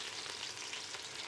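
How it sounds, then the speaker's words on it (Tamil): Small onions sautéing in oil for chicken biryani, a soft continuous crackling sizzle at low volume, steady without breaks or talk. "இப்போ இதில் இந்த வெங்காயத்தை சேர்த்துக்கலாம்."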